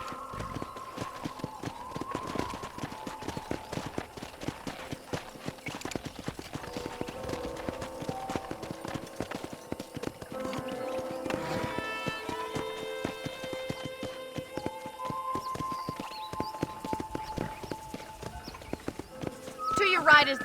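Horse hooves clip-clop steadily during a ride around a ranch in the Red Dead Redemption video game, a rhythmic trotting beat with a brief whinny, under game dialogue and soft music.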